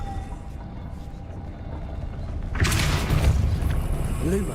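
A Depulso spell blast in Hogwarts Legacy erupts as a sudden loud whooshing boom over steady game ambience, followed by a rumbling tail.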